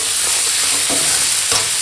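A close, loud hiss of chicken neck and liver frying in a pan with tomato, broken by two or three distinct spatula stirs, with no one speaking.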